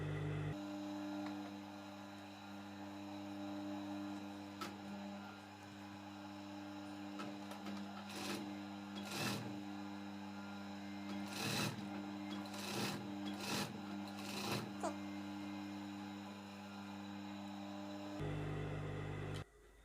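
A sewing machine stitches the waistband of a fabric skirt with a steady mechanical whir and hum, broken by several short bursts of sharper rattling needle strokes.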